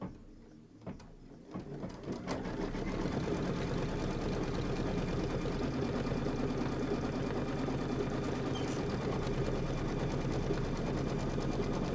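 An embroidery sewing machine running a quilting stitch on linen, starting with a few clicks, then settling into a loud, steady, rapid mechanical whir that continues alone to the end.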